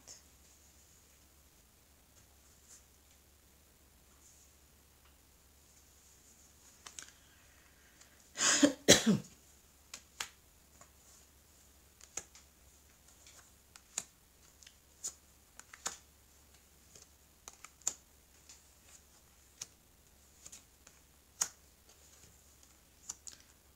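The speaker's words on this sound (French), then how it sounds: "tailler les cartes." Tarot cards being cut and shuffled at close range in a quiet room: a short papery riffle burst midway, followed by scattered soft card taps and clicks, with no talking.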